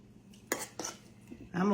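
A spoon scrapes and taps against a dish while sour cream coconut cake frosting is spread. Two or three brief clinks are followed by a voice at the end.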